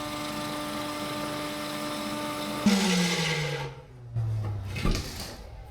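A vacuum runs steadily in a barn, whining in a constant tone, then its pitch drops and winds down as it is switched off, followed by faint bumps and handling noise.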